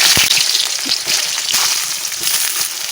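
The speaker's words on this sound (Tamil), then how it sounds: "அதை வதக்கி விட்டுட்டு வெங்காயம் போட்டுடலாம்." Spices frying in hot oil for a home-style chicken gravy, with onions to follow: a loud, steady sizzle close up, broken by sharp crackles and pops.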